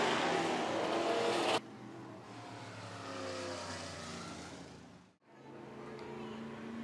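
Hobby stock and sportmod race cars roar around the Worthington Speedway dirt track. A loud close engine roar cuts off abruptly, giving way to a lower, rising and falling drone of cars circling, with one brief dip.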